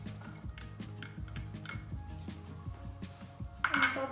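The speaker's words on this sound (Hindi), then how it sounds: "और इसमें अनियंस डाल लें।" Chopped onions tipped into a pan while cooking chicken fajita macaroni: near clinks and clatter of cookware, then a sudden bright hiss of sizzling near the end.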